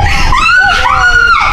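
Riders shriek on a twisting, steeply dropping amusement ride at a theme park, with loud, sustained high-pitched screams that rise and fall together and fill the whole moment close to the listener.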